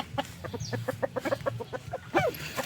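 A fighting rooster kept in a coop for breeding clucks nearby in a quick series of short, repeated calls, with a louder burst near the end.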